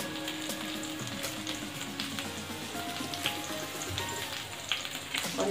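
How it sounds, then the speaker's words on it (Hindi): Chopped garlic and green chilli frying in hot oil for chicken manchurian, a steady close sizzle with light crackles and occasional stirring clinks, no voices. "और इसे हम थोड़ी देर तक भूनेंगे।"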